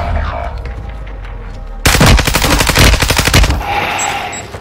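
Rapid automatic gunfire bursts out in a shooter video game, loud and close. A sustained stream of rounds runs for about two seconds, then cuts to quieter game ambience.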